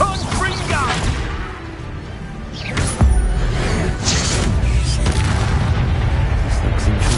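In Hogwarts Legacy, a Confringo fire spell explodes in a loud, heavy boom with a sharp crack near the middle, over a rumbling mix of game effects.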